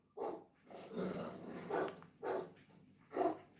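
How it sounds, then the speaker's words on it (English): A winged dog-like creature in The House of the Dead Remake lets out five gruff, growling barks in a slow uneven rhythm, moderately close and fairly quiet, with no talk over them. "He's barking."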